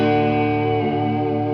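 An electric guitar plays through a Boss DD-200 delay pedal with its modulation effect on, giving sustained, shimmering tones that ring loud and steady with no voices.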